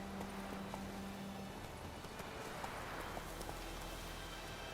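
Hooves of Roach, Geralt's horse in The Witcher 3, clip-clopping in a steady rapid rhythm over ambient game background, fairly quiet and continuous throughout.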